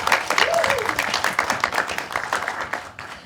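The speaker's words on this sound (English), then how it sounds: "A round of applause for Geoff McFetridge." An audience at a film and art festival event applauds for artist Geoff McFetridge, a brief burst of dense clapping that swells and then tapers off, with a voice speaking over it.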